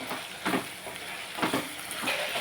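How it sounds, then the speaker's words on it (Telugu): Potatoes fry in a covered pan with a steady sizzling hiss, broken by periodic bursts of scraping and stirring, close by and moderately loud, with no clear speech. "బంగాళదుంపలు వేగిపోవాలి కదండి ఇంకొక నిమిషం వేగలిద్దాం"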